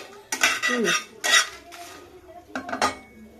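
Dried red chillies dry roasting in a hot kadai, with bursts of metallic clatter and scraping as a utensil tosses them against the pan, fairly close and in several separate rattling bouts with quieter gaps between.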